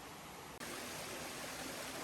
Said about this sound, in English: Here is a much easier stream to cross.